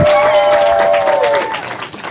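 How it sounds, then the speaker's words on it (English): Studio audience applause for a school team on a televised quiz show, a dense burst of clapping that fades over two seconds while a voice carries over the top. "Give them a round of applause."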